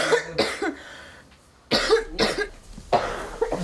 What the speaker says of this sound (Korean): 그런데 갑자기 심하게 기침을 하는